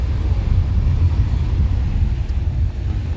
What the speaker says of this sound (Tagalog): Lakas pati ng hangin saka yung ulan guys.